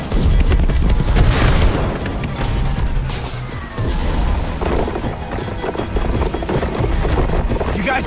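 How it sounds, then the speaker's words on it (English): Fireworks burst in Minecraft: Story Mode, loud cracking booms layered over dense game sound and a rush of noise, continuing steadily throughout. "Fireworks!"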